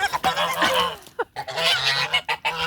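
Honking from the biggest goose in a flock, loud and close, with several harsh calls in bursts separated by short gaps.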